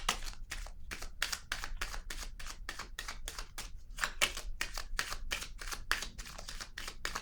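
Tarot cards are shuffled by hand in a quick, even run of soft slaps and riffles, faint and close, with no voice.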